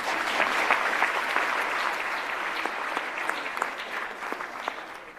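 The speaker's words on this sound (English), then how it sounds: "Let's give them a big round of applause." Warm audience applause for regional managers at a launch event for 4IR centres of excellence, many hands clapping steadily at a moderate level throughout, fading a little toward the end.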